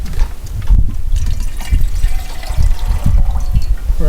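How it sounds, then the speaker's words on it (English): Water sloshes and trickles inside a metal canteen at a backpacking camp, a close, continuous liquid swirl with soft pouring and dribbling sounds throughout. "So see how much water I've got in here."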